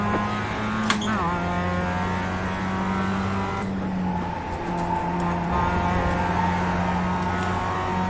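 A race car's engine drones steadily from inside the cockpit during an endurance race, loud and continuous, with a gear change near the start and other cars faintly passing.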